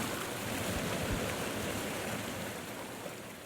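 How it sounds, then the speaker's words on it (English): Small, hidden waterfall in the Maine woods, a steady broadband rush of falling water that stays even and fairly close throughout, with no voices. "I was rewarded with a hidden yet very humble waterfall."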